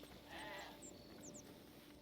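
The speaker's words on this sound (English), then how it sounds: "Sheep." A sheep in a video game bleats once, a brief wavering call set against a steady hum of ambient game sound, with a few faint chirps after it.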